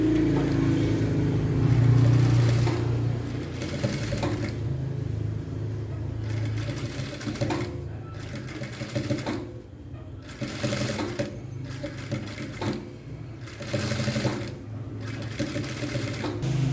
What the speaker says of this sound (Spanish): vamos entonces a repisar más o menos a medio centímetro de la otra costura para que nos quede ahí la doble costura